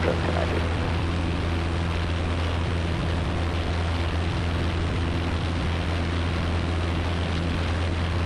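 A Piper PA-28 light aircraft drones with its propeller engine in flight during pattern work, a loud, constant, even hum that fills the whole stretch without pause.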